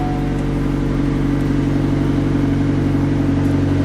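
A 2018 McLaren 720S Launch Edition idles after starting, a steady low engine drone with layered harmonics held at constant loudness and no clear rev, close by throughout.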